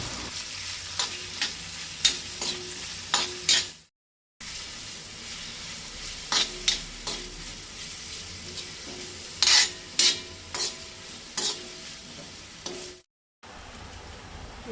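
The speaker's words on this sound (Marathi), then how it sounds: "आता तो कांदो बरो भाजून घेवपाक जाय" Chopped onions fry in a pan for a Goan prawn and radish curry, a steady close sizzle broken by repeated utensil scrapes and stirring clicks, with two brief silent gaps.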